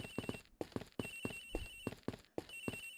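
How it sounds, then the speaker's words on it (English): A desk phone rings in the Ace Attorney Investigations video game, sounding as four repeated electronic trill bursts with short gaps between them, close and clear over a faint background. "Agent Hicks' phone! It's ringing from somewhere, sir!"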